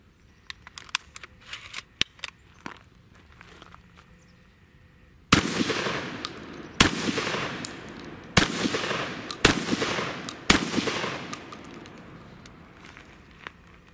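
A Remington V3 Tac-13 shotgun fires high brass double-aught buckshot: five loud, sharp blasts spaced a second or so apart, each with a ringing decay, after some quiet handling clicks.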